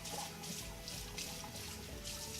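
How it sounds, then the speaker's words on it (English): A bathroom tap runs steadily while someone rinses off after shaving, a soft, constant splash of water with no talk. "now just give me a minute and I'm gonna go ahead and rinse off"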